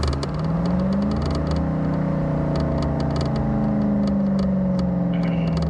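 A 1996 Ford Mustang Cobra driving down a bumpy road, its engine droning steadily with rising pitch under acceleration and faint rattles and knocks from the rough surface, loud and continuous with no talking.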